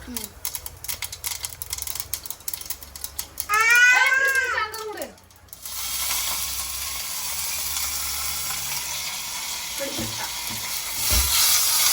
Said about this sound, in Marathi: तडका देते फक्त ना आता